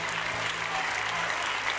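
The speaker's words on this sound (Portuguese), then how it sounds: "E aplauda o mais forte que você pode aos céus." A church congregation applauds loudly, a dense and steady roar of many hands clapping together.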